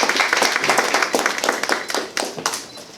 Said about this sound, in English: So we have to give an applause to the family members that are here today.